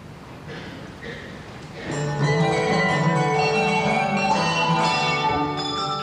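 The Gnosall handbell ringers play King Cotton by Sousa, bright ringing bell tones that start softly and swell into a full, sustained chorus of overlapping pitched chimes.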